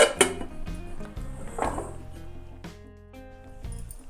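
A metal pot lid set over wheat flour dough in a kitchen: a few close clinks and knocks of metal against a pot, with a resonant ring in the middle, and no talk.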